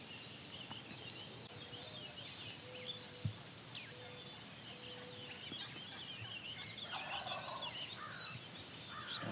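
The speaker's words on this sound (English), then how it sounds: "Their gobbling's a little bit inconsistent." A wild turkey gobbler in the Maine woods gobbles faintly in the distance, a short rattling burst among chirping songbirds and soft outdoor ambience.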